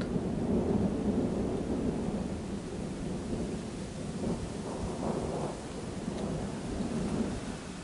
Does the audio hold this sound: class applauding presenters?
no